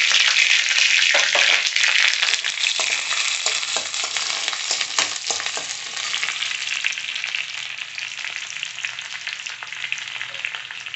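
Onions fry in hot oil in a pan, a loud, continuous close-up sizzle with occasional stirring scrapes, easing slightly in intensity over the stretch.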